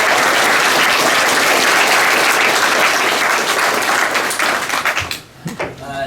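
Audience at a 2019 school graduation applauding and cheering for a newly elected Cabrillo Unified School District board member, loud sustained clapping that fades out over the last second.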